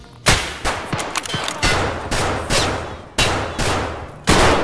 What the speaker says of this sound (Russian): По мне стреляет.